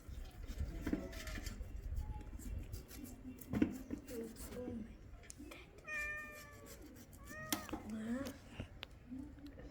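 A cat meows near a spot where young chickens are being butchered, giving a few short calls around the middle of the stretch while people talk over steady background noise.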